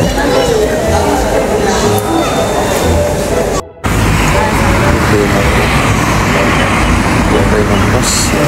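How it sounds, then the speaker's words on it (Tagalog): Inside a bus station, traffic and buses make a loud, steady roar of engines and road noise mixed with crowd chatter, with a brief cut to near silence partway through; people talk nearby. "Sa loob ng bus station."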